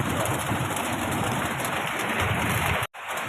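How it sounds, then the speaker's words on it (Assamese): Rain falls steadily in a hilly forest, a dense and loud wash of drops that continues without pause, apart from a brief break near the end. "পুৰা কেতিয়াৰ পৰা বৰষুণ দি আছে"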